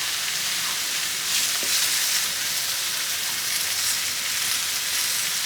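Bacon frying in a pan alongside burgers and tomatoes on a cook shack grill, a steady close hiss and crackle of sizzling fat running unbroken throughout, with no talking.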